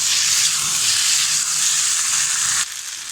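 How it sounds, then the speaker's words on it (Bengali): Pre-fried chicken and egg tossed with vegetables in a hot pan give a loud, continuous sizzle and hiss that drops suddenly in level near the end. "এখন দিয়ে দেবো আগে থেকে ভেজে রাখা চিকেন আর ডিম দিয়ে ভালোভাবে মিশিয়ে নেব"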